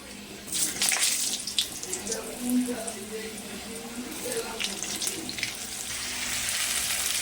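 Potatoes slide into hot oil in a pan for spicy pulao, raising a loud, continuous hiss and crackle that swells early and then settles into a steady sizzle.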